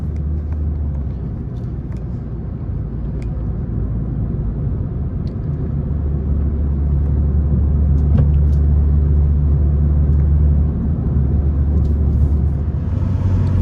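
A BMW 335i F30 with the N55 engine on an MHD Stage 2 E30 blend tune cruises in comfort mode, giving a steady, close, low cabin rumble and engine drone that swells slightly midway, with no talking.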